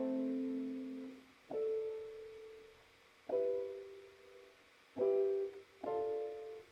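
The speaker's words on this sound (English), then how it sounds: "And the same chord progression in the minor key sounds like this." A chord progression in a minor key sounds as a series of soft, sustained keyboard chords, each struck and held before the next, slow and quiet with no talking.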